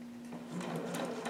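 Sewing machine beginning a 5/8 hem on a McCalls 7402 harem jumpsuit, a short close burst of rapid mechanical stitching over a steady motor hum.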